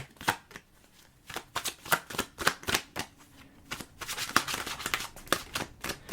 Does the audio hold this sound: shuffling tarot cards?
yes